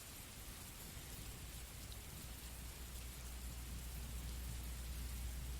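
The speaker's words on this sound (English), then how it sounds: "Tiny bit louder on the rain." Steady rain plays as a background sound effect on a live stream, a soft continuous hiss of drops on a surface with low rumbling underneath, even and unbroken throughout.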